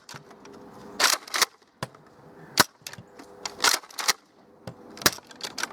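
Dry fire of a Nerf Retaliator toy blaster: a series of sharp plastic clacks and snaps from the priming slide and trigger, irregularly spaced, close and loud with no talking.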